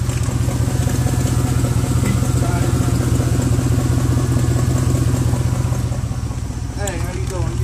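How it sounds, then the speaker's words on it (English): A car engine with a slight exhaust leak idles steadily with a low rumbling drone and a faint ticking, puffing rhythm, recorded up close with no break. "You can hear that there's a slight exhaust leak."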